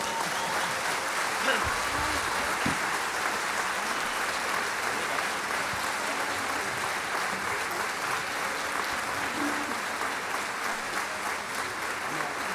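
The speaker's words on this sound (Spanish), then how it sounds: "aplauso." Sustained audience applause at a folk song and dance performance from Cieza, Murcia, a steady dense wash of clapping lasting throughout with a few faint voices underneath.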